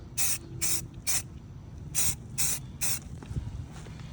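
An aerosol can spray paints a rifle magazine in short close hissing bursts, three quick ones, a pause, then three more, with faint handling noise between them.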